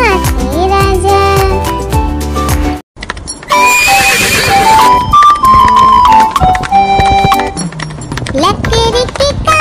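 A horse neighs loudly amid a bright, busy Hindi children's song about a wooden stick and a horse, with clip-clop hoofbeats and music playing throughout.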